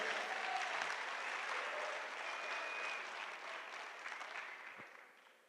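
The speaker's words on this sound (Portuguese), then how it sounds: "Salve de palmas ao Senhor Jesus" Church congregation at an evangelical conference applauding, a dense, even wash of clapping from a large crowd, heard at a distance and fading slightly at the end.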